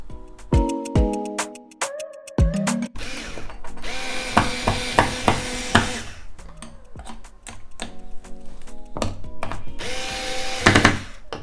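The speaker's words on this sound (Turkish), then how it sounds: "Pirana akülü vidalama seti işimizi gördü ufak tefek montaj işleri için." Piranha cordless screwdriver sold at A101, used for small assembly jobs, whirs loudly and close in repeated short bursts. Its motor pitch rises and falls as it starts and stops, with ratcheting clicks between runs. No talk.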